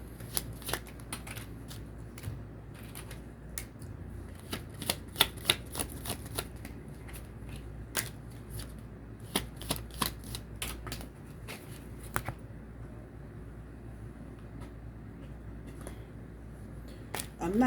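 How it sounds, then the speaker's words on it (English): A deck of tarot cards being shuffled by hand, with repeated quick riffles and sharp card snaps in an irregular rhythm, close and fairly quiet, no talking. "I'm just shuffling till I get to the end of them."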